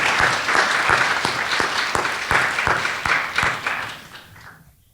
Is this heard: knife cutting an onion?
no